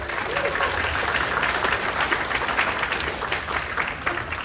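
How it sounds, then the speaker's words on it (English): A conference audience at a Singapore iOS developer event claps for a local speaker, a full, even burst of applause from a large crowd sustained throughout. "So let's give him a big round of applause."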